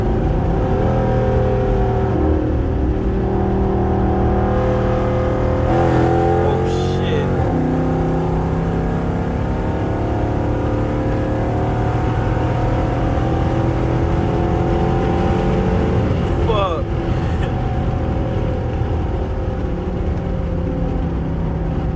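A 400+ hp R/T car accelerating hard with its tires spinning: a loud, continuous engine roar with rising and shifting revs, close and steady throughout.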